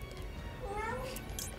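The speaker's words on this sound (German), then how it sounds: "Oh, da kommt der Kater an." A tomcat meows once in a drawn-out, wavering call over a low background rumble, moderately close.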